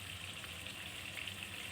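Tilapia fish frying in hot oil, with a steady close sizzle that crackles and spits faintly throughout.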